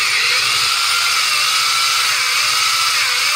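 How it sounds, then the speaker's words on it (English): A power drill drilling holes in a GMC Jimmy for a light bar install whines loudly and continuously, a steady high-pitched motor grind close by with no talking. "all you do is you just start drilling down and until you get your hole in"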